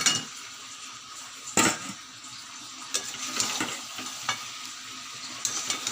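Fish heads hitting spiced oil in a pan, with a steady broad sizzle, a few sharp spikes as pieces drop in and are stirred, and no talking.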